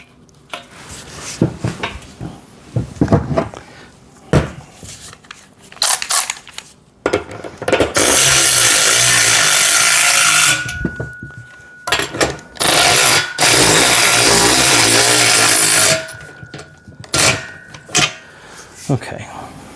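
Metal parts clank and a wrench works nuts onto washers while assembling a VEVOR pec deck and rear delt home gym machine, with scattered clicks and scrapes and two longer bursts of steady mechanical noise, under occasional talk.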